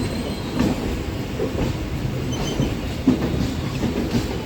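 A Kolkata Circular Rail suburban train runs along the track, giving a close, continuous rumble with rhythmic wheel clicks and clatter and no voices over it.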